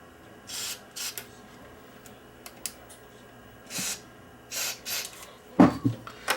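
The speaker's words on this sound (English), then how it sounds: "get the spray cleaner right in and give these switches a clean." Short hissing bursts of spray cleaner are squirted into the switches of a Kenwood KA9100 integrated amplifier, several quick close-up puffs spaced unevenly, with faint handling noise between them.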